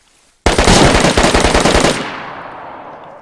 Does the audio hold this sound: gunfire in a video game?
yes